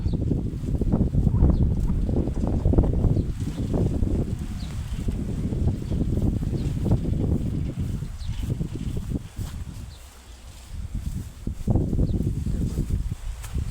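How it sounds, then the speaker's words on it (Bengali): Strong wind buffets and rumbles continuously through a date palm orchard in a desert, with gusts rising and falling over a low roaring background. "আজকে হাওয়াটা খুব কড়া।"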